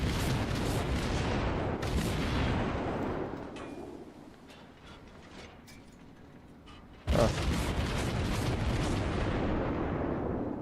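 In World of Warships, heavy warship guns fire at an enemy Kuma cruiser, first as a loud rumbling barrage, then a quieter stretch of distant crackles, then another sudden booming salvo that rolls on to the end.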